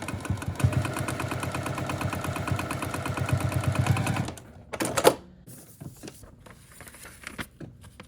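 A sewing machine stitches a foundation paper piecing seam for a scrappy flying geese quilt block, a close, steady rapid chatter for about four seconds that stops abruptly, followed by quiet handling and paper rustling.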